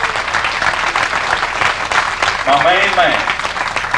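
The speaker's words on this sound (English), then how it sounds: "Have a nice round of applause." Banquet audience at a New Orleans awards dinner applauds steadily in a room, the clapping continuous throughout while someone speaks briefly over it.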